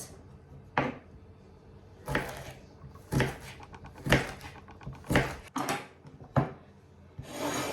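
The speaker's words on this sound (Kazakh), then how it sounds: "Сәбізімізді де осылай біркелкі қылдып турап алдық" Carrots chopped with a knife on a board, about seven separate close thuds spaced roughly a second apart, each a short scraping knock, with quiet gaps between and no talk.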